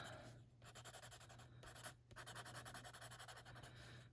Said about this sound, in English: I might come in here with a little blender pencil just to smooth out some of the